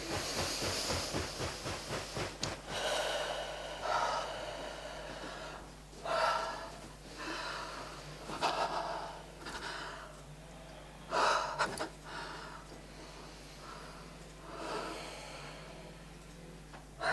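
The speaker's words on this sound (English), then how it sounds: "you just take nice deep breaths as we shake this out for you" Slow, deep breaths drawn in and let out during a body-shaking relaxation exercise, each inhale and exhale a soft airy hiss repeating every couple of seconds, fairly close with a faint steady hum behind.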